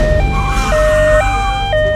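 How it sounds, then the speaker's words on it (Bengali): An ambulance siren plays close and loud, alternating between two tones in a steady hi-lo pattern about every half second over low traffic rumble. "অ্যাম্বুলেন্স কোথায়?"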